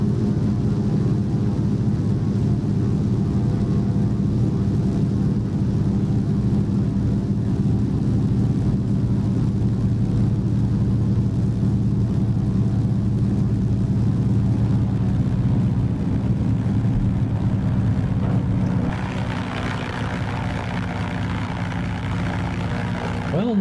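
A Thranda DHC-2 Beaver in the X-Plane 11 flight simulator drones steadily through its landing approach, a loud continuous propeller and piston engine hum that shifts slightly in tone near the end.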